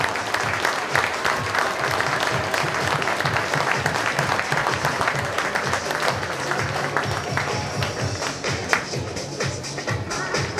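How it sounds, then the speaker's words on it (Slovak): A crowd at a Slovak football club event applauds the national youth champions with sustained, dense clapping for the whole stretch, along with faint murmurs. "Poprosím obrovský potlesk pre šampiónov Slovenska."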